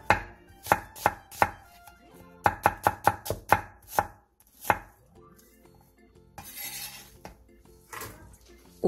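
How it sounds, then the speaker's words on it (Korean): A knife slices two onions thinly on a cutting board, giving a run of sharp, evenly spaced chops that speed into a quick burst, then pause for softer rustling and shifting of the pieces, close and crisp. "양파 2개를 2에서 3cm 정도 길이로 얇게 채 썰어주세요."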